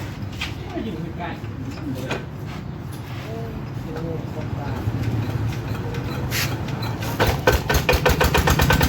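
A Kubota RT90 Plus tractor drives a Tarchang NC Plus rotary tiller through soil, making a steady low engine rumble with rattling, knocking tiller clatter that grows louder toward the end while people talk over it.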